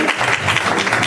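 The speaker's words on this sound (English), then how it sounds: "Clap your hands." A church congregation claps hands together in a dense, steady wash of applause that fills the space, loud and continuous with no clear pauses.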